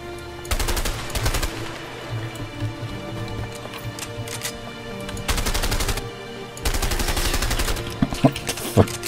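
Gunfire in the video game A Way Out: sustained bursts of rapid automatic fire come in several loud volleys, with a few single sharp shots near the end, and no talk.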